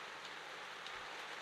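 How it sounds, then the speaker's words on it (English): Heavy rain pours down during a Jamaican football match between Dunbeholden FC and Humble Lion FC, a steady faint hiss of downpour with no voices. "It's absolutely pouring here."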